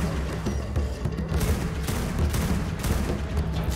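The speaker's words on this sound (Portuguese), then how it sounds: "já tiro de escopeta" Shotgun blasts in the video game Ark come as a dense burst of booming shots in quick succession, steady and fairly loud with no speech over them.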